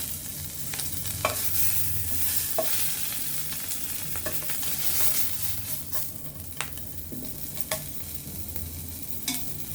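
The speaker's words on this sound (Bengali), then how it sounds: "এরপর ইলিশ মাছের লেজটা আমি ভেজে নেব।" Hilsa fish tail frying in an oil-filled pan, a steady close sizzle with occasional crackles and spatters over a low hum, continuous for the whole stretch with no talking.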